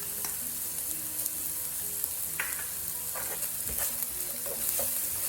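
Streaky pork stir-fried with dried chili and salt, a steady close sizzle with scraping stirs and clacks of a utensil against the pan throughout.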